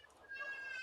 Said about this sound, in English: I have a cat meowing in the background